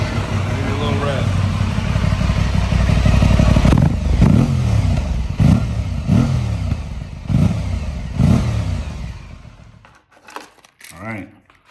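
Engine revving through a factory 8R exhaust: a rough idle, then a run of sharp throttle blips with burbling decay, fading to near silence before a few close clicks and knocks.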